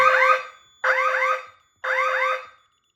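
Fire alarm sounding from a DSC Neo alarm panel after the panic button is pressed: three evenly spaced bursts of a loud, warbling electronic siren, each lasting under a second, with short gaps of silence between.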